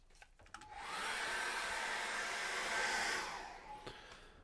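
A hair dryer runs to dry acrylic paint on a hand-painted Christmas card, rising to a steady close whoosh for a few seconds and then winding back down.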